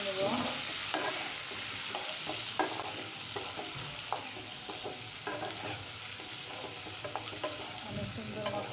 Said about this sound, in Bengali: এখন আমি সুন্দর করে ডিমগুলো ফ্রাই করে নেব, লাল লাল করে।